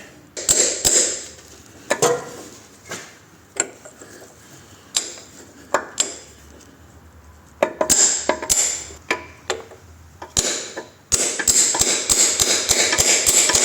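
A hammer drives a driveshaft seal into a Ford Focus C-Max by striking a socket: sharp single taps spaced a second or two apart, then a quick run of rapid blows near the end, close and without talk.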